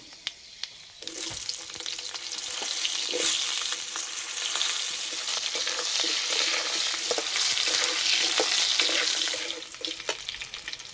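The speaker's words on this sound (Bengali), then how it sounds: "আলু ভালো করে ভেজে নিয়েছে" Potatoes fry in hot oil in a pan, a loud, continuous sizzle that bursts in suddenly and keeps crackling and hissing steadily, with occasional stirring scrapes, before easing off at the end.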